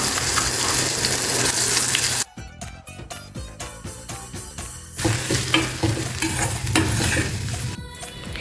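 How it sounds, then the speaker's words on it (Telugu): Sweet potato chutney stirred into a hot tempering in a pan, a loud dense sizzle that drops to scattered crackles and stirring clatter, then surges back into a strong frying hiss. "ఇందులో మనం ఈ చట్నీ వేసేద్దాం"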